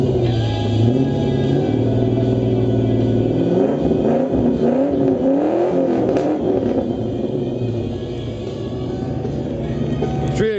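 A Mustang GT engine revs and idles close by, its pitch rising and falling in waves as the motor is pushed and eased off, loud and steady throughout.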